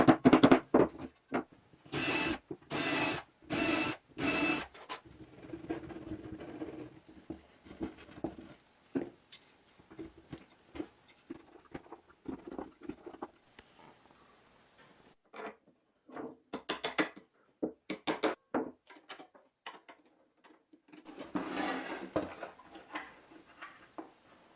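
Screws are tapped into wood to mark pilot holes during a table saw build, giving clusters of sharp, quick knocks separated by short pauses, close and fairly quiet, with no speech.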